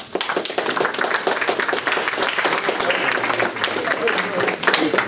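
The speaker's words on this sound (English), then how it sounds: "Can we give him a round of applause, please?" Steady, dense applause from a lecture-hall audience of students fills the whole stretch, many hands clapping at once close by and loud with no break.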